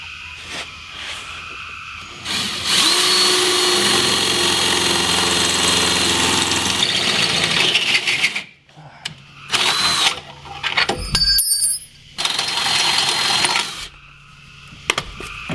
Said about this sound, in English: we'll drill a guide hole here